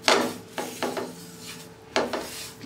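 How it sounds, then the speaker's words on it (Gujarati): Roasted flax seeds and sesame stirred in a pan with a spoon, giving a few separate scraping strokes against the metal, close and fairly quiet, with no talking. "અહીંયા અળસી અને તલ આ બંને એકદમ સરસ રીતે એકબીજા સાથે ભળી જાય, સેટ થઈ જાય એના માટે આપણે હલાવી લઈશું"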